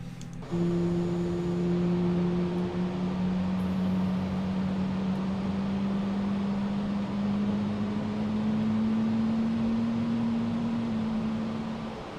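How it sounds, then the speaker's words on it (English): An airliner's number two engine spools up in a flight simulator, a steady droning whine that climbs slowly in pitch over a constant rumble, heard alone with no talk. "Engine 2's coming on."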